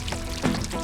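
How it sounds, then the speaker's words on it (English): Water pours from a watering can onto garden plants in a cartoon, a steady close splashing trickle that continues without a break. "Peppa and George watering the plants in the garden."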